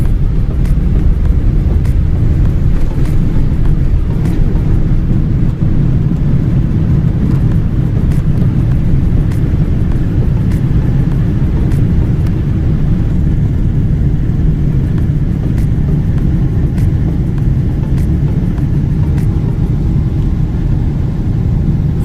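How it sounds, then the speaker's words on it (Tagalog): Steady, loud roar of an airliner's engines heard from inside the cabin as the plane takes off and climbs, with a constant low rumble and faint clicks throughout. "Ngayon, ito na, umakit yung aeroplano sa taas."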